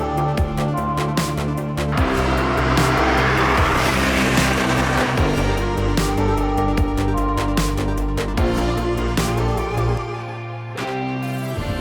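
A Ferrari Testarossa's 390-horsepower 180-degree flat V12 roars loudly and steadily close by, rising in pitch as it accelerates, with engine harmonics holding strong throughout before a brief drop at the end.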